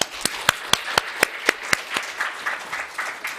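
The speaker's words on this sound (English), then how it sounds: "Please welcome him around with a big round of applause." A conference audience in Seoul applauds a presenter, with several distinct hand claps standing out at first before blending into softer, steady clapping that fades slightly.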